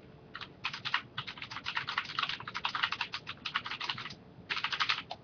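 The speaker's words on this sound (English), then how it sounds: "Show off my impressive typing technique." Rapid typing on a computer keyboard, dense bursts of close crisp key clicks with a short pause near the end before another flurry, no voices.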